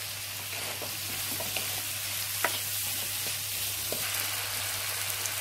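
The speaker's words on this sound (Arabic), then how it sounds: "تبلنا الفلفل مع البصل والثوم، ومعلقه من الملح والفلفل، ومعلقه من بهارات اللحمه، دبلناها كويس" Peppers, onion and garlic seasoned with salt, pepper and meat spices sauté in a pan for a sausage dish, giving a steady close sizzle with a few light stirring clicks and no talking.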